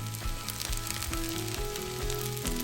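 Fried rice sizzles steadily in a hot pan as it is mixed, a loud continuous frying hiss with occasional scraping stirs, no talking.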